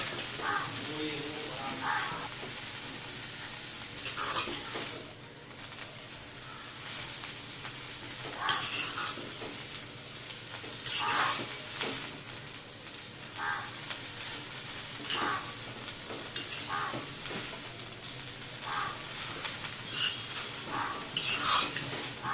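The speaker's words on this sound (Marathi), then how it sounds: "भाजी टाकून परतून घ्यायची" Vegetables sizzling in a hot iron kadhai while a metal spatula scrapes and clanks at irregular intervals; steady frying hiss underneath, close by, no talking.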